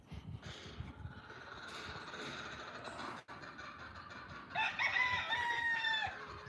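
Chickens on a farm shared with pigs, goats, emus, cats and dogs cluck and crow, with a rooster's crowing rising clearly near the end over a busy barnyard background of scattered clucks and rustling.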